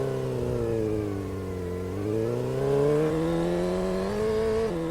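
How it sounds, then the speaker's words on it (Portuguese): A Bison Vespa sport motorcycle engine in a video game roars close up, holding a steady throaty drone that dips and then revs higher. No voices. "eles colocaram um ronco absurdo nessa moto."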